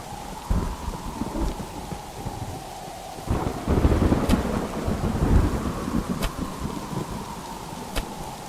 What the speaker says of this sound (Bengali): এত রাতে যেও না, বিদ্যুৎ চমকাচ্ছে।